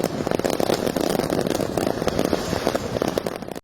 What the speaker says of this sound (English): Probably the most spectacular fireworks show we'll ever see in our lives.